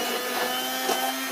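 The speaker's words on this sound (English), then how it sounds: "I'm using the stick blender because it was handy." A stick blender whirs steadily while mixing homemade liquid conditioner, a close, continuous motor hum with a constant pitch and no pauses or speech over the short stretch.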